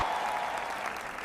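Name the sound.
applause and cheering at an award announcement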